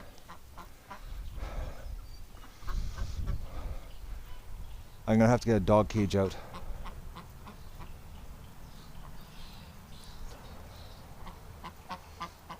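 A hurt duck kept indoors for care gives a short, loud burst of repeated quacks around mid-clip, with people talking before and after it.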